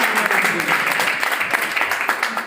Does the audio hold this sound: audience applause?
yes